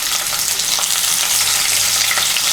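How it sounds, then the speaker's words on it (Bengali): Thin-sliced bitter gourd, seeded and salted, fries in a pan with a steady, dense crackling sizzle throughout, close and loud with no voices. "উচ্ছেটাকে লাল করে ভেজে নেব"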